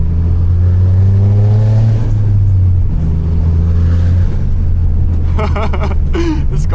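A tuned Toyota GR Corolla drives past close and loud, its engine droning as the pitch climbs and shifts through the revs. A brief rougher burst comes near the end.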